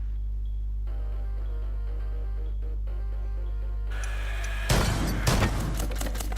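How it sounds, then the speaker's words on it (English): Gunfire from a player shooting at a drone in the video game Rainbow Six Siege, a sudden loud burst of rapid shots cutting in after a low hum and quiet music. "Now I'm gonna see if I can actually shoot it before it gets near."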